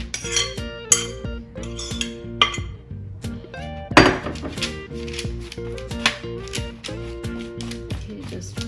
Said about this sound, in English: Now we are going to transfer them on a baking tray.